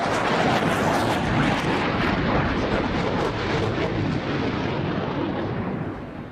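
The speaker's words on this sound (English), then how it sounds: "By the way, the jet has been slowing down, as the crew seems to have something to say." An Italian Air Force Tornado IDS jet flying at an air show, a loud continuous roaring wash of engine noise that holds steady and then eases slightly toward the end.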